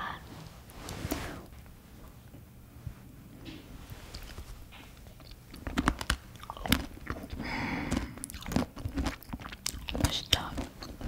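Someone eats a homemade Russian-style smoothie bowl up close, with biting, soft chewing and occasional spoon clinks in a quiet room, plus faint handling noise.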